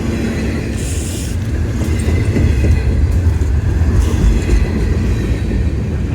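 Military train carrying ammunition passing on a railway during a winter storm drive, a loud close rumble of cars rolling by with rhythmic clatter and brief high wheel squeals.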